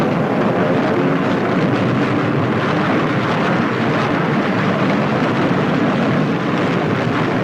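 Constant broadband engine roar and wind rush from warplanes on the flight deck of the aircraft carrier USS Yorktown in 1944, loud and unbroken throughout with no distinct separate events.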